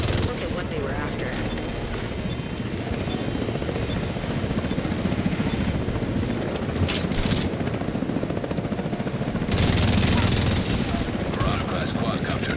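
A quadcopter drone flying in the video game The Division 2, a dense continuous rotor drone mixed with bursts of gunfire and game noise, with a voice speaking over it.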